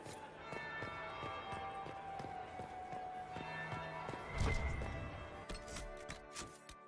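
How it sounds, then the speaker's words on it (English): A church bell tolls in the video game Dragon Age: Inquisition, its ringing tone sustained under regular footsteps before a heavier thud and clatter near the end. "That would be the second bell."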